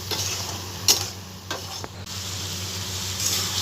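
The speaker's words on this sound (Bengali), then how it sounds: "আদার কাঁচা গন্ধটা যতক্ষণ না চলে যায় ততক্ষণ একটু আমি নাড়তে থাকি 2 মিনিট।" Shrimp masala with ginger stirred in a frying pan, a soft sizzle running steadily with a few sharp scrapes and clinks of the spoon against the pan, close and fairly quiet, no voices.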